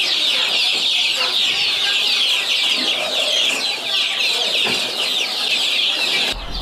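A flock of growing KUB chickens in a rearing house clucks and chirps continuously, a dense, close chorus of overlapping calls with no talking over it.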